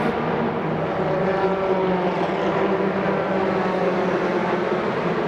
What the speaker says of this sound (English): Chetan Karada comes across the line in 6th position.